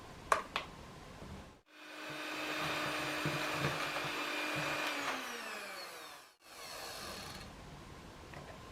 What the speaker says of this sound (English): First, cream the butter and the sugar.